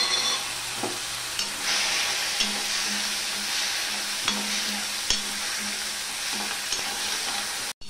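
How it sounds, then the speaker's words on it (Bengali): Ginger paste fries in a pan for an onion- and garlic-free ash gourd dish, a steady close sizzle with a few light clicks of stirring throughout. "নুনটা দেওয়ার পর আমি এখানে 1 চামচের মতন আদা পেস্ট রয়েছে, সেটা আমি দিয়ে দিলাম।"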